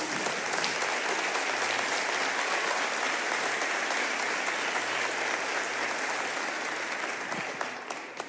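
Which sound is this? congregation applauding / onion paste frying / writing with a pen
congregation applauding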